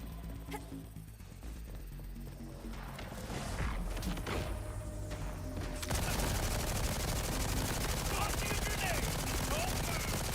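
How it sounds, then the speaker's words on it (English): SMG fire in a shooter video game, rapid automatic bursts blending into a dense, continuous wash of gunfire and noise that grows louder and fuller partway through, with a voice talking faintly underneath. "it shouldn't take a whole clip of an SMG to kill one enemy"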